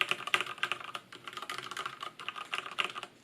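A Durgod K320 mechanical keyboard with Cherry MX Black switches is typed on at close range, a quick uneven run of clacky keystrokes with brief pauses, no voices.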